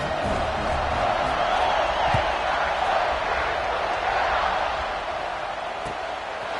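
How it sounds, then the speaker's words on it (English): Dense crowd noise fills a football stadium at a Michigan versus Ohio State game after a score, a steady broad roar and buzz that holds near-constant loudness throughout, with occasional faint thuds under it. "this crowd is buzzing after that last score"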